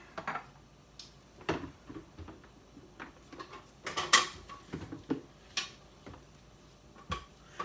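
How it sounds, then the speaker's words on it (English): A blender is shifted aside on a kitchen counter, producing a string of scattered knocks, scrapes and clatters of varying loudness, close by and without speech. "Let's move our blender out the way."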